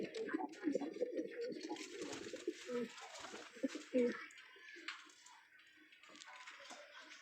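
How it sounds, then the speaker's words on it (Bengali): Pet pigeons in a home loft, including high-flying birds, a single red checker male and youngsters, coo repeatedly and closely with soft, overlapping calls, alongside faint rustling and a few clicks. "তো এই যেগুলো আমার কবুতর,"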